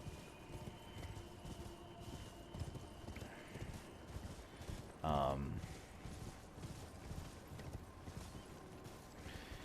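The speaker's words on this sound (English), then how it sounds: "I'm getting on my horse and I'm making my way downtown." A horse gallops across open terrain in the video game Elden Ring, its steady clip-clop hoofbeats running throughout with a brief louder thump midway, while a voice speaks faintly.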